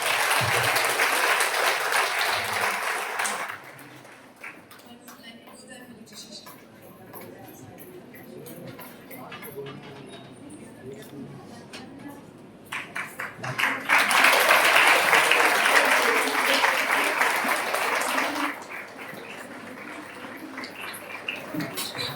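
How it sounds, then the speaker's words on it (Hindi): Loud audience applause at a Christian women's empowerment workshop, thanking a speaker; a dense burst of clapping fades out, then quieter murmuring and stray claps follow before a second strong wave of applause rises and tapers off. "मैम को धन्यवाद देंगे जोरदार तालियों के साथ"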